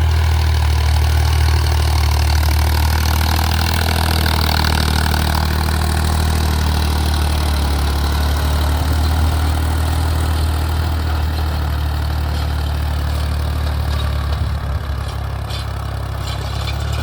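A tractor engine runs steadily in a wet, muddy levelled field, a loud, continuous low idling drone that stays close and even for the whole stretch with no talk over it.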